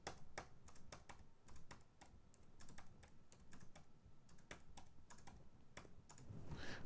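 Arrow and delete keys on a computer keyboard are tapped in quick irregular clicks, close and crisp, over a quiet room hum, about twenty presses in under seven seconds.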